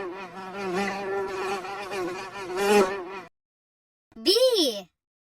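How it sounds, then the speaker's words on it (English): Insect buzzing from a bee, a steady droning hum with wavering pitch that holds for about three seconds, stops, then returns as a short rising-and-falling buzz; loud and close, no talk. "bee"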